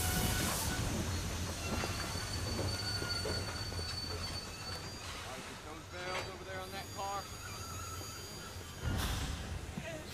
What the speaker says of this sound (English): Quick now, while the train pulls in.